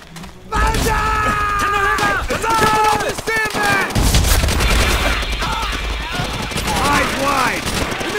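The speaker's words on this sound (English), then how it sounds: "Sniper fire!" Sniper and rifle fire crack out repeatedly during a World War II battle for Shuri Castle in Call of Duty: World at War, loud shots and booms over shouting soldiers and music.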